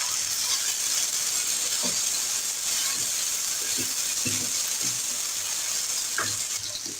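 Chopped onions and red tomatoes frying in a pan over a medium-to-low flame, a bright, continuous sizzle with scattered soft clicks and scrapes of stirring.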